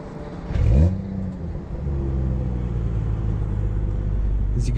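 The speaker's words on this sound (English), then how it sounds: "Let's do the engine start." A 2011 BMW 135i engine cranks and catches, with a brief rev, then settles into a steady low idle rumble; wind noise runs underneath, outdoors in San Diego.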